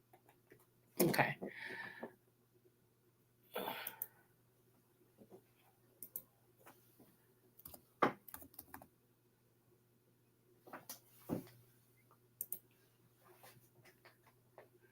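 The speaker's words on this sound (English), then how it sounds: "I'm typing it on the wrong one" Someone types on a computer keyboard indoors with irregular bursts of clicks and key taps, some louder clacks, and stretches of quiet between them, over a low steady hum.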